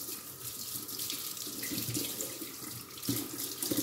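Tap water runs steadily from a kitchen faucet onto an air fryer cleaning item, a close, even splashing hiss with slight shifts as the item moves under the stream.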